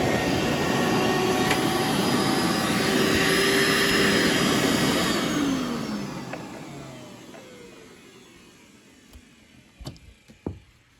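A 2000 Hoover SteamVac Widepath carpet cleaner drones loudly and steadily, then winds down and fades out, leaving a few clicks and knocks at the end.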